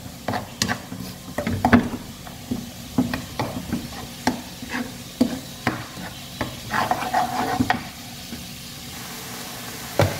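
Spice paste with salt stirred in a pan, the spoon scraping in an uneven rhythm over a soft steady sizzle, close and fairly quiet, no voices.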